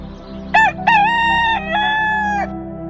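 A rooster crows loudly and close by, one long drawn-out cock-a-doodle-doo over a steady low hum.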